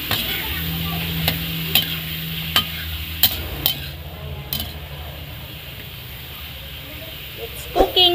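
Sliced ampalaya (bitter gourd) sautéing in a pan gives a steady sizzle, with a few sharp utensil clinks against the pan scattered throughout and a louder clatter near the end.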